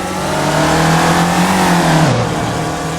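A rusty Audi's engine in Euro Truck Simulator 2 drones and revs, rising then falling in pitch as it shifts, loud and steady throughout.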